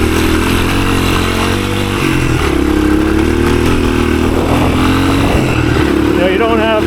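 A 1983 Honda XR200R dirt bike, a roughly 15 hp four-stroke, burbles and revs loudly through tight woods, its engine pitch rising and falling steadily beneath a rider talking over it.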